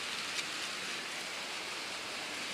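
Steady rain falls on a rainy day as an even, unbroken hiss throughout, with no voices.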